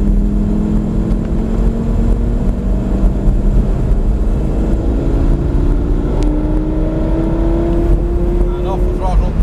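A Lamborghini engine on a racetrack at Prestwold, steady rising drone as the car accelerates under gentle throttle, loud and close throughout, with an instructor talking over it.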